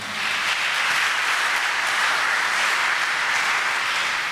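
Steady applause from a church congregation at a midday Mass for the Solemnity of Saint Joseph, many hands clapping together in a dense, even wash that stays loud for the whole stretch without talking.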